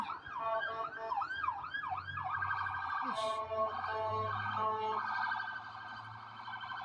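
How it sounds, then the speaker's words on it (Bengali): An ambulance and a fire brigade truck pass by with their sirens wailing, a rising and falling tone that shifts into a fast warble, heard from a moderate distance over steady street noise. "আর ওই যে গাড়িগুলো আসছিল, অ্যাম্বুলেন্স, তারপরে ফায়ার ব্রিগেডের গাড়ি"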